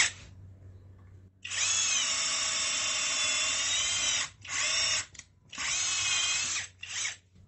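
A CHIGO cordless drill with torque control spins a 10 mm bit at high speed, making loud, close, high-pitched whirring bursts: one long run, a brief blip, another long run and a short final spurt.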